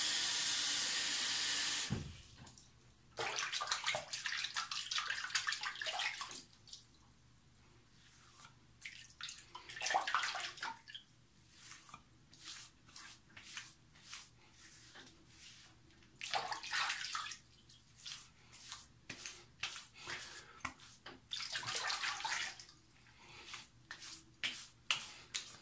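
A bathroom sink filling from a running tap, a steady rushing splash of water that rises and falls in intensity over about twenty-five seconds, heard close with no voices.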